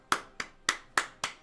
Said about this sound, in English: Just golf clap all the way.